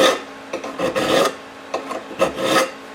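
Rhythmic rasping strokes of a hand file cutting a metal part for a homemade overhead-valve Briggs engine, about five close, dry scrapes in a slow back-and-forth pattern.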